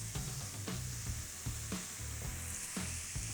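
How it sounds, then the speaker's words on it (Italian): Sliced shallot frying in oil in a pan, a soft steady sizzle broken by quick clattering knocks and stirring scrapes against the pan every half second or so. "Verso lo scalogno e lo faccio rosolare per bene"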